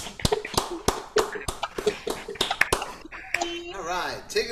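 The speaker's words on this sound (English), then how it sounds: "Everybody give Kimberly a nice round of applause, please." Scattered, uneven hand claps from a small open mic audience, a dozen or so sharp slaps spread over a few seconds, followed by a voice speaking.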